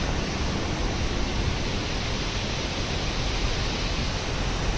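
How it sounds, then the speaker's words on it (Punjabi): Floodwater surging through the swollen Sutlej river up to the level of the barrage gates, a loud, steady broadband roar of rushing water that continues without a break. "ਉਹ ਜਾ ਰਿਹਾ ਪਾਣੀ"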